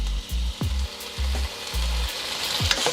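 Chicken pieces for chow mein sizzle and crackle in hot oil, with steady loud frying broken by repeated low scraping knocks as the pieces are turned and slid around the pan.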